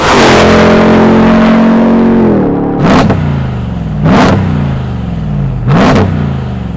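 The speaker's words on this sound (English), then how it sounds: "If you want the most powerful pickup truck that we've ever offered in a 30-year history of Hennessey Performance, it is the Mammoth 1000." A Hennessey Mammoth 1000 TRX pickup truck engine roars at steady high revs, then drops into three sharp, loud revving bursts spaced about a second apart, close up and with no talk over it.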